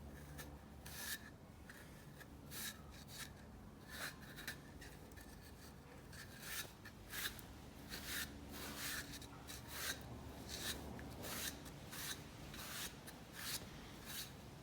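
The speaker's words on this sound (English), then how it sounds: "what I'm just going to do with it is just wipe it down a little bit" A cloth rubs and wipes over a handmade play button to clear away excess material, giving a steady, soft scraping with repeated strokes, close to the microphone and without talk.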